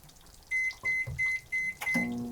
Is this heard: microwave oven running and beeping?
yes